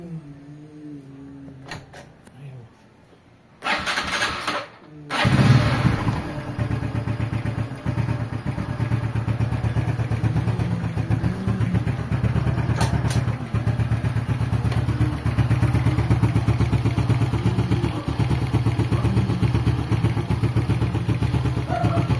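A motorcycle engine idles and runs in gear, a steady close rumble with some mechanical clatter, preceded by a few brief knocks and a short burst of louder noise before the engine settles into its continuous drone.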